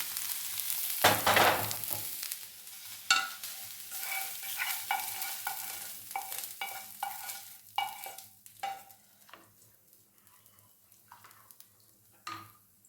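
Ingredients for katte pongal lightly frying in a pan, a quiet sizzle broken by a loud scrape near the start and intermittent clinks and scrapes of a spoon stirring, close and alone without speech.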